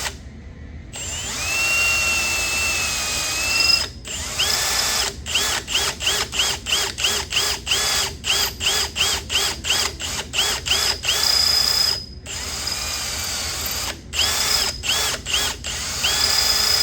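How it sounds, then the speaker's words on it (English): A power drill bores a hole into a metal engine part on a boosted 400 Pontiac LeMans, starting with a long whine, then running in a rapid series of short bursts with brief pauses, close and loud. "we're going to drill a hole in this thing"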